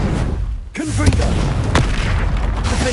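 Spell blasts burst in Hogwarts Legacy combat, heavy booming impacts with a sharp crack partway through, layered over a rumbling game soundtrack and brief voiced spell shouts.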